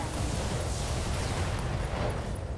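A mech explodes in the BattleTech video game, giving a loud, sustained, rumbling blast that fills the whole stretch with no pause or voices.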